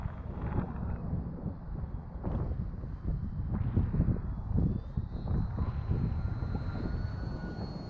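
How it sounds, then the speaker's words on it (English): Strong wind buffets the microphone in gusty, rumbling bursts around a flying FT Bushwacker model airplane, with a faint thin motor whine high above and no talking. "The winds are a little strong up there."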